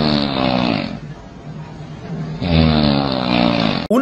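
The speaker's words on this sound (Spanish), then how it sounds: "no es un cerdo, son mis ronquidos, así ronco yo." A man snores in long, loud, rasping pulls, two heavy inhales split by a quieter exhale, close and dry like a cartoon sound effect, ending in a sharp cut.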